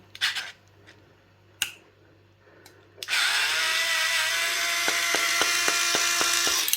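A Parkside cordless screwdriver whirs steadily as it backs screws out of a circuit board, a loud continuous motor drone with a faint periodic ticking, preceded by a few clicks and knocks of handling.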